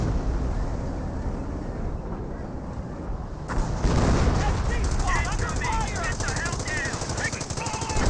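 Artillery barrage in the Company of Heroes video game: dense, continuous rumbling explosions and rattling gunfire that swell louder midway, forming a heavy, chaotic battle din.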